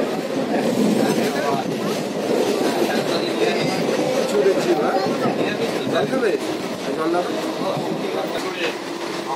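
A moving passenger train rumbles steadily with a continuous rattling clatter of carriages, heard from on board, with voices talking over the noise.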